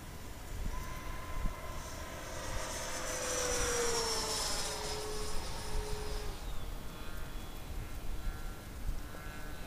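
An RC de Havilland DH-112 Venom with a 90mm electric ducted fan flies past, its high whine rising and sweeping down in pitch as it nears and recedes over steady outdoor noise.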